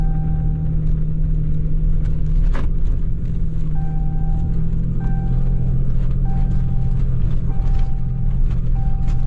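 A truck grinds up a snowy hill in the deep woods with a loud, steady engine drone and rumble, while a faint mechanical ticking repeats underneath, no voices heard.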